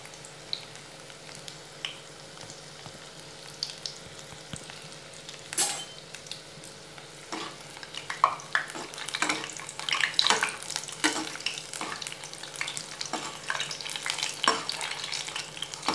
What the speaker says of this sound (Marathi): आपल्याला जे हे मिरचीचे भजे आहेत हे भजे आपल्याला तळून घ्यायचे आहेत।